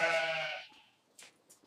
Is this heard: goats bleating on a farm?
yes